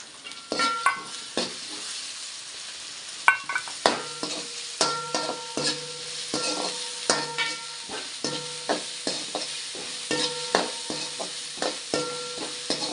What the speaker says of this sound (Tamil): இஞ்சி பூண்டு போட்டாச்சு. இதை போட்டு நல்லா வசக்கணும்.